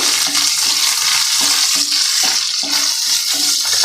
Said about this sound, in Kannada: ಕ್ಯಾರೆಟ್ ಹಾಕ್ಕೋತೀನಿ. ಸ್ವಲ್ಪ ಮಿಕ್ಸ್ ಮಾಡ್ಕೊಳ್ಳೋಣ.